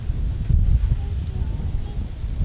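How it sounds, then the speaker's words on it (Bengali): Wind blowing across an open village field in the rainy season, a loud low rumbling buffet against the microphone that gusts strongest early on and keeps up steadily throughout. "ও কি বাতাস।"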